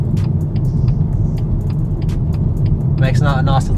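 A soft, regular turn-indicator ticking repeats under a low engine rumble inside a 2021 BMW X1 20d, and a voice speaks briefly near the end.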